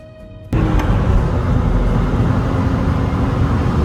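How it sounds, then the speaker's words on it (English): Steady low road rumble and engine drone inside a moving car, with a quieter idle for the first half second before the noise swells and holds loud and constant. "we're just going straight to being inside his car"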